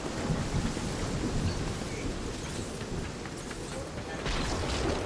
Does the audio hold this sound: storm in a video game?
yes